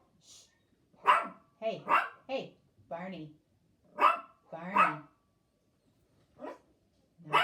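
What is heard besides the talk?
dog barking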